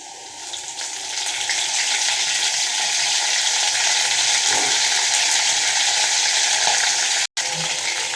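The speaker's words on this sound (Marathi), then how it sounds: "आता आपण लगेचच याच्यात कढीपत्ता ॲड करू" Curry leaves sizzling in hot oil with cumin and garlic, a loud, steady frying hiss that swells after a soft start and keeps going, broken only by a brief cut near the end.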